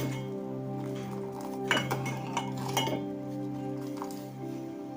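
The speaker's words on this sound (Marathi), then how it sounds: "हे बघा, मला हलवून दाखवते." Masala chai simmering in a pan over a medium flame, stirred with a metal spoon that clinks and scrapes against the pan in a short burst, over a steady low hum.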